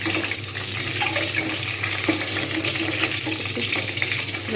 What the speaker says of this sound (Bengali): তেলটা গরম হয়ে গেলে অবশ্যই ডিমগুলো দিতে হবে।